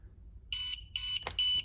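A combustible gas detector sounds three loud, shrill electronic alarm beeps in a steady rhythm, close up, with a brief sharp click between the second and third.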